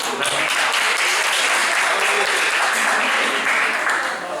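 A quiz event audience applauding, dense sustained clapping that fills the whole stretch at a steady loud level, with some voices mixed in.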